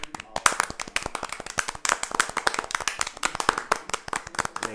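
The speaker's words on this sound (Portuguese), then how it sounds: "Uma salva de palmas para o cara" Clapping for a podcast guest, a metal musician, in a small studio: a dense run of sharp, close hand claps with a steady uneven rhythm and no voices over them.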